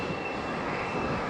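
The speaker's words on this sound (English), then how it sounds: "That's an Embraer from British Airways." A British Airways Embraer jet at Faro Airport gives off a steady, dense engine roar, loud and unbroken across a short moment.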